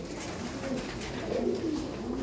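Kabji pigeons at a loft cooing in low, soft repeated calls, several overlapping murmurs running steadily through the moment with faint background noise and no voices.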